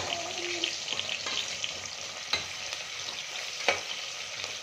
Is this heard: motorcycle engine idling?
no